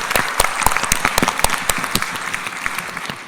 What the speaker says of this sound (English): Let's give a round of applause to the audience.